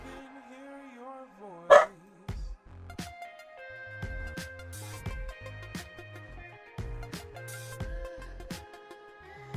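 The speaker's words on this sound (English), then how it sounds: "That was my dog." A dog barks sharply once indoors, then gives a run of repeated barks and yips that continue steadily. A faint voice and background tones sit underneath.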